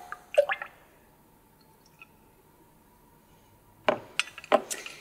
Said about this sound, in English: So we're simply going to pour those right in there.